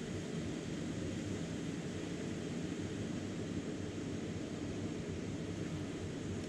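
A steady, broad hiss of a Jetboil camping gas stove burner at a campsite at night runs unbroken and fairly loud, with no voices over it.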